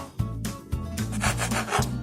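A knife sawing through bread slices for masala bread upma in a home kitchen, rhythmic rasping strokes repeating about every half second, close and clear with no talk.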